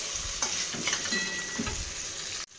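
Masala being sautéed and stirred in a pan, a close frying sizzle with a few scraping stirs, then cut off abruptly near the end; no voices.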